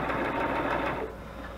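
Sewing machine running a chain stitch, a steady fast whirring hum close by that drops slightly in pace near the end, alone without talk.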